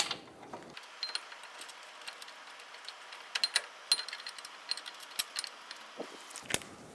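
A caliper bracket bolt being started by hand on the front brakes of a 2010-2014 Subaru Outback, small metallic clinks and light threading scrapes, close and fairly quiet, with no talking.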